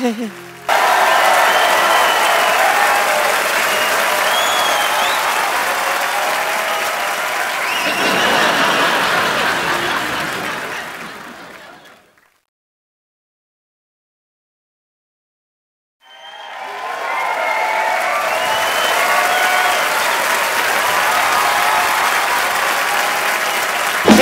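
A studio audience at a comedy talk show breaks into loud, sustained applause and cheering for Priyanka, Ranjeet and Simi, dense clapping running for about twelve seconds, dropping to silence, then returning just as strongly.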